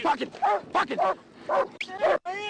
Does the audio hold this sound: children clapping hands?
no